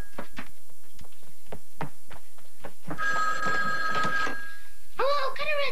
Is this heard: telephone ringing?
yes